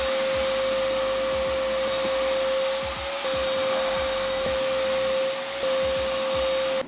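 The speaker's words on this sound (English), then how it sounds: "take a vacuum to this area" A vacuum cleaner runs inside a BMW E9X/F8X during a fire extinguisher install, making a loud, continuous close-up roar with a steady whining tone and brief changes in pitch as it moves around.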